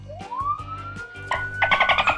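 Electronic alarm siren sound effect, a single tone sweeping steadily upward and holding high, loud and close, with rhythmic bursts of noisy beeping joining toward the end.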